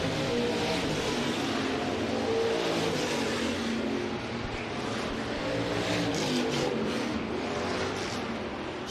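Race cars coming around the corner at Rapid Speedway make a steady, loud, continuous engine roar with no breaks, sweeping past at close range.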